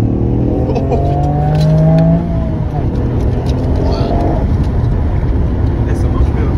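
A Toyota GR Yaris with a three-cylinder turbo engine accelerates hard, its rising engine note strong and close inside the cabin, then fades into a steady road roar while a voice talks over it.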